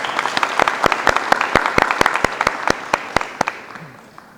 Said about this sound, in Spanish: Un fuerte aplauso para Mercedes